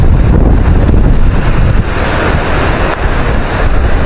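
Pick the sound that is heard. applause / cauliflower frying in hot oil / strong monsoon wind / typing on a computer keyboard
strong monsoon wind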